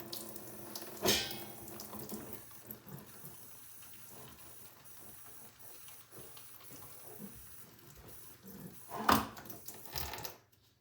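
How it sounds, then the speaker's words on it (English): Light water is poured over seedlings in seedling mix soil, a faint trickle with two brief louder splashes near the start and end, otherwise quiet and without talk. "we're just going to water that in. So very light water."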